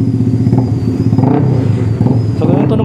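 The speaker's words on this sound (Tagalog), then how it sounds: "So ganun tunog niya, stock exhaust, napakatahimik, ang laki." A Kawasaki ZH2 supercharged motorcycle on its stock exhaust revs loudly and close by in short repeated blips over a steady engine drone.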